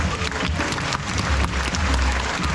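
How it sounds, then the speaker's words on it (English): Audience clapping at the Australia Zoo Crocoseum croc show, a dense, steady round of applause filling the whole stretch with heavy low rumble beneath, sounding like a large outdoor crowd. "Give them a round of applause."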